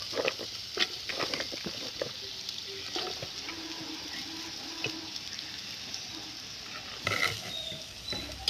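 Washed vegetable pieces for Kerala-style avial tossed into a hot pan and stirred, giving a steady soft sizzle with scattered scraping and clatter of pieces, a louder stir burst near the end, no voices.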